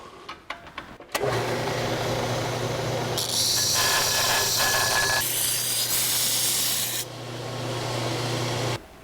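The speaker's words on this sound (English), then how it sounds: "we'll go and grind the corners off to get our radiuses" An abrasive grinder rounds the corners off a freshly cut metal piece, a loud steady whine with a rasping hiss that swells and drops as the tool bears on the edge, after a few sharp knocks at the start.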